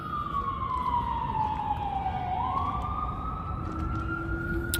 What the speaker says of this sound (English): we can hear the sirens out there somewhere